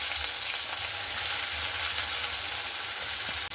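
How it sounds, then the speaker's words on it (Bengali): Sliced onions frying in oil in a kadai give a steady, close sizzle that runs evenly throughout with no talking. "পেঁয়াজটাকে লাল লাল করে কিন্তু ভেজে নিতে হবে।"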